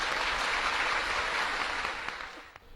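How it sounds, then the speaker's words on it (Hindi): An audience claps to welcome a guest onto a stage, a dense burst of applause that holds steady and then thins out and fades in the last moments. "तालियों से स्वागत।"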